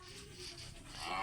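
A Minecraft pig grunts in the video game, a short faint low snort that rises slightly toward the end, alone without talk.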